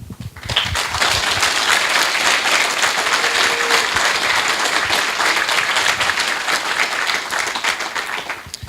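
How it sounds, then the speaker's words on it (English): Sustained applause from an audience at an academic award ceremony, a dense, even wash of many hands clapping that starts abruptly and holds steady at full strength for several seconds before easing slightly at the end. "now it's a second round of applause"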